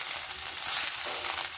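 Small fish and radish fry in a pan, giving a soft, steady sizzle and crackle that stays fairly quiet for a brief moment with no talking.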